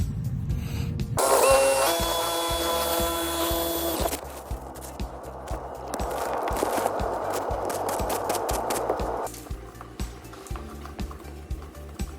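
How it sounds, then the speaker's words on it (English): A power drill whirs steadily, revving and bogging as it bores through a wooden top plate for cable runs, with a brief high-pitched whine early on, close and loud. "let's drill this top plate and feed our glow rods down"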